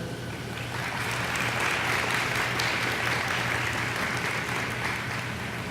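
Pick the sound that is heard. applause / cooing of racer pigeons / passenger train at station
applause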